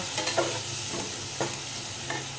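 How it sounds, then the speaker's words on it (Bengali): Ground cumin paste with a splash of water frying in a pan for a Bengali mourola fish curry, an even close sizzle with a few soft scraping strokes of stirring, no speech. "জিরেটা ভালো করে ফ্রাই করব"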